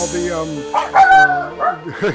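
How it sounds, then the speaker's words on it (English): A dog gives a few short barks and yips close by, over steady background music and people talking. "Check out the dog."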